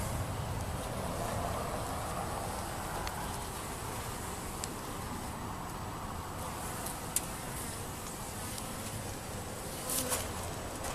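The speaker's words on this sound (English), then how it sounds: "So in this hive, they're still going in and out and everything." Honeybees flying in and out of a hive in late afternoon, a dense, steady buzzing hum close by, with faint passing traffic in the background and no talking.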